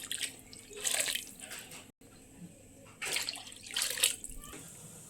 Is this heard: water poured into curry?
yes